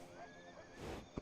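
A horse whinnies in a racing video game, a short neigh over steady background game audio, closing with a sharp hoof-like thump.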